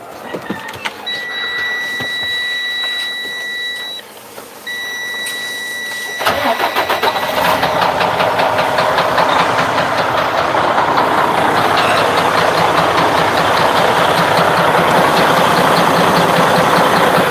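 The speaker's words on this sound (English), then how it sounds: "when you start, the engine makes a sound." After a few seconds of quiet hum with a high electronic beeping tone, an engine cranks and catches, then settles into a steady, loud idle.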